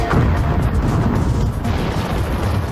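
An explosion welding blast joining aluminum plate gives a loud, sustained, rumbling boom with heavy low-end roar that fills the whole span without pause, with no voices.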